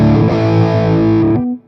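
A high-gain distorted electric guitar through an Orange Thunderbird 200 amp simulation in AmpliTube 5 plays a short, thick chord that sustains loudly for over a second before cutting off.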